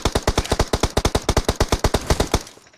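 Automatic gunfire in the mobile battle-royale game PUBG Mobile: a rapid, evenly spaced burst of about twenty loud shots with no voices, ending abruptly with a short fading tail.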